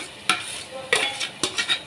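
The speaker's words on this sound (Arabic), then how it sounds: "وهنقلب المكونات دي كلها مع بعض كده" A spoon stirs a tomato and eggplant mixture for Egyptian moussaka in a pan, giving several sharp scraping clinks against the metal at irregular intervals over a faint sizzle, close and fairly quiet, with no talk.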